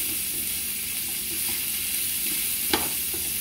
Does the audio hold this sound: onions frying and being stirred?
yes